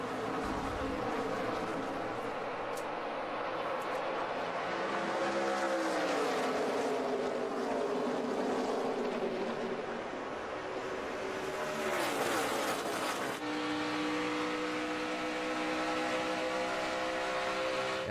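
Race cars roar around the track at the 2012 STP 300, a continuous loud engine drone whose pitch rises and falls as packs of cars pass nearby and then move away.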